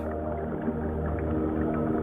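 An adult male humpback whale calls while swimming slowly, producing low, ethereal tones that blend into a thick undersea rumble, with no voices present.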